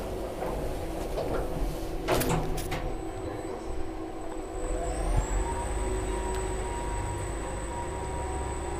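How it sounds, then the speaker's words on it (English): A Schindler traction elevator door sliding shut in a Helsinki apartment building, a couple of sharp clunks followed by a long thin whine and steady motor hum, close and fairly loud. "let's close the door"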